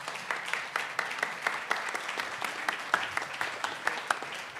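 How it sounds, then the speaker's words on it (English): An audience applauds panelists at the close of a conference talk on platform accountability, with steady dense clapping throughout and sharper individual claps standing out near and far. "a huge round of applause for my panelists"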